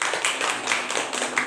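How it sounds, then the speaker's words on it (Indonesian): A classroom of students clapping for a classmate, a short, fairly loud burst of mixed claps at close range without speech. "Tepuk tangan dulu untuk temannya."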